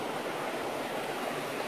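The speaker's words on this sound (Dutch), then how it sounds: "Kijk naar dit stromend water." Stream water flowing steadily through woodland in the Ardennes, a constant even rush and babble with no breaks, faint and continuous with no voices.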